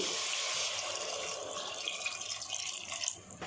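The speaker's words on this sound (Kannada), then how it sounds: "ಈಗ ಇದಕ್ಕೆ ಬೇಕಾಗಿರೋಷ್ಟು ನೀರು ಹಾಕ್ತಾ ಇದ್ದೀನಿ" Water pours steadily into a pan of vada curry on the stove, a close, continuous splashing and hissing stream with no talk.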